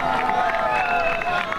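Spectators along the Seville marathon route near Plaza España cheer and clap in a steady crowd roar, with a commentator talking over it.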